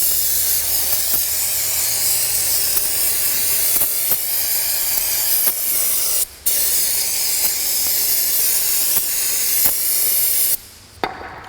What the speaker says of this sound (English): I'm going to use brake clean here and let it liquefy whatever's inside the concrete here